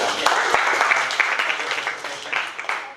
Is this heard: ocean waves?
no